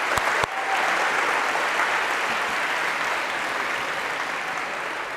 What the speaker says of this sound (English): a round of applause for Sahar